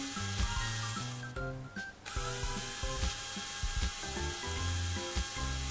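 A dental drill in a mobile dentist video game bores into a decayed tooth: a thin, buzzing mechanical whine with clicks, set against looping game music, with no speech.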